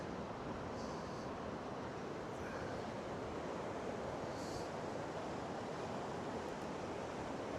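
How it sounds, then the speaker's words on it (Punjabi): Ocean surf on the coast of Portugal, a continuous broad roar of breaking waves mixed with wind buffeting the microphone, steady and loud throughout with no voices. "ਸਾਰਾ ਸਮੁੰਦਰ ਹੀ ਸਮੁੰਦਰ ਹੈ"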